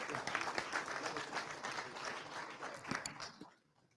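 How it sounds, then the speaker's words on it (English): A conference audience gives a sustained round of dense applause that fades out near the end. It sounds moderately distant. "Can we get another round of applause for everyone?"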